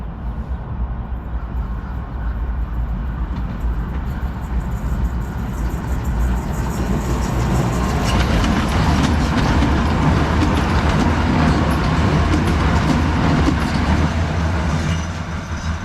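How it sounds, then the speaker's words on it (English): A loud train rumbles steadily past close by, coming down a hill in Calgary, its wheels clattering rhythmically over the rails and growing heavier midway through. "Here comes the train down the hill."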